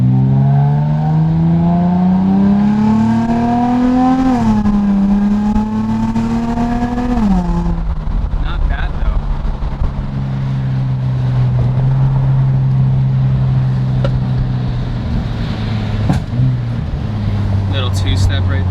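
An Infiniti G35 engine with a leaking muffler holds a loud, raspy two-step launch-control drone, its pitch rising and dipping, then settling into a lower steady rumble, close and dominant.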